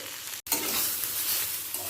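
Fish frying in a pan with salt and turmeric makes a continuous close sizzle with stirring, broken only by one very short dropout near the start.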